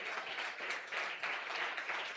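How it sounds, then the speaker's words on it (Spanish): Church congregation applauding during a sermon, a thick, continuous patter of many hands clapping together, moderately loud and sustained with slight swells, no voices on top. "dele la ofrenda de aplauso"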